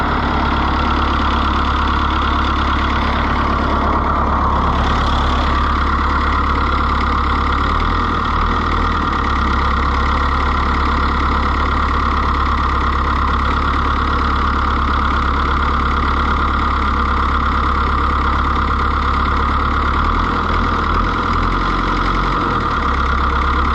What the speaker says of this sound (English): it seems like it's idling much faster than it did